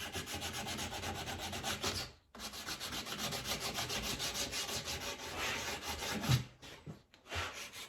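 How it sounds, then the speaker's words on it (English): Wood edges are sanded by hand with a small piece of sandpaper, making a steady rhythmic rasping of quick back-and-forth strokes, close and clear, with two short pauses. "got a little piece of sandpaper. I'm just gonna sand the edges, maybe sand the face a little bit"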